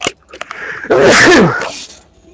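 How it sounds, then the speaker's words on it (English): A single loud, close sneeze from a man playing an online game, with a short sharp inhale building into a forceful burst that fades quickly, followed by quiet. "I'm going to sneeze."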